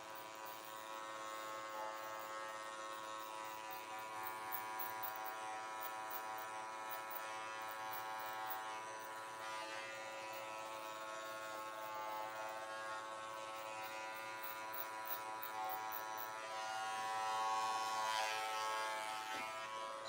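Electric hair clippers buzz steadily and close up throughout a haircut, a continuous motor drone with no talk over it.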